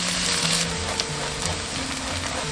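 Shallots being stir-fried in pork fat in a wok give a continuous close sizzle with light scraping and occasional crackles, steady in level, with no voices.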